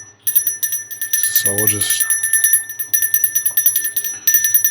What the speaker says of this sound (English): What I can do is I can use a bell And a bell also cleanses everything.